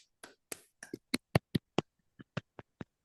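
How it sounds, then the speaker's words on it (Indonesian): Scattered, sparse claps from a small classroom group for student teams, a dozen or so separate sharp hand claps spaced irregularly, fairly close and quiet, no talking. "kita beri tepuk tangan buat kelompok 1 dan kelompok 2"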